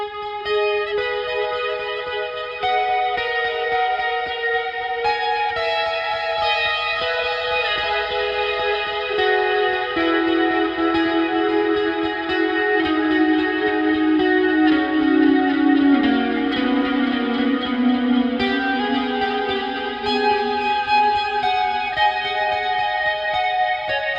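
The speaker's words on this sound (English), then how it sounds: "So this is a usual clean tone, and I put the particle reverb on path A and then 2 delays," A clean ambient electric guitar tone from a Line 6 POD HD Pro, run through particle reverb and two delays, rings out in sustained chords and shimmering trailing repeats that swell and wash together, with no talking.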